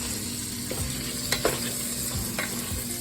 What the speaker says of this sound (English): The sausage is cooking just fine.